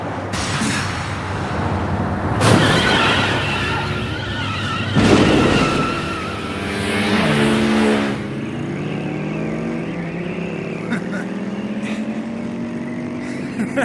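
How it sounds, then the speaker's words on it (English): High-speed racing engines roar and rev in an anime action scene, with loud rising and falling pitch sweeps, sharp bursts of acceleration and a continuous dense drone. "As our motors roared, our conversation continued on like that."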